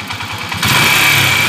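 A 175cc motorcycle engine runs close by with a steady low putter, then revs up louder and holds a fuller, rougher roar.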